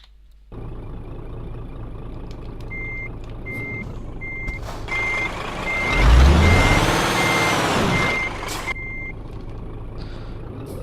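A truck's reversing alarm in Euro Truck Simulator 2 beeps in a steady repeating pattern over an idling engine, which swells as the vehicle moves, with a hiss of air brakes.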